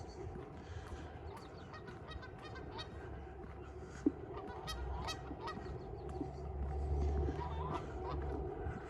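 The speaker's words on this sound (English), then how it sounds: "Commentary from the waterfowl." Geese and other waterfowl honk along a creek on a gray spring day, scattered calls at a moderate distance over steady outdoor ambience, with a faint voice in the background.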